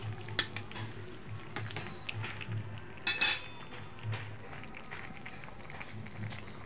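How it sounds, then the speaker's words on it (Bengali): Small river fish added to a pot of taro and eggplant curry, with quiet clinks of a utensil against the pot and soft stirring. The clinks come in a few scattered taps, the loudest near the middle, over a low steady kitchen background. "এখন আমি মাছগুলি দিয়ে দেব"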